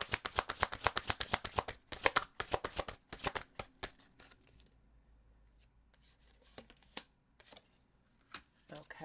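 Tarot cards are shuffled in a rapid run of crisp riffling flicks that thin out into scattered single card snaps, close and fairly quiet, with a brief soft murmur in between.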